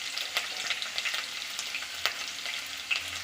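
Garlic, ginger, green chilli and spring onion fry in a pan for chilli chicken, giving a soft continuous sizzle with scattered crackles and light stirring taps, close and quiet.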